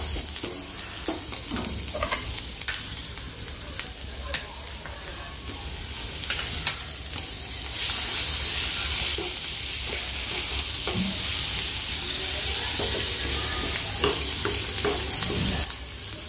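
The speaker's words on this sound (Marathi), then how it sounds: "थोडासा लसूण आहे ना बटरमध्ये हलकासा फ्राय करून घेऊ" Finely chopped garlic fries in butter with a steady close sizzle, growing louder partway through, while occasional stirring scrapes and clicks sound over it.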